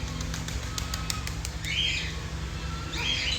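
A pet budgie parrot chirps in two short high bursts over a steady room hum, with soft taps and a flutter of wings nearby and no talk.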